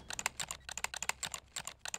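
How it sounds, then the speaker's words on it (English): Rapid clattering keystrokes on a computer keyboard during a Rainbow Six Siege match, a close, crisp burst of irregular clicks with no voices. "will you type in on that keyboard?"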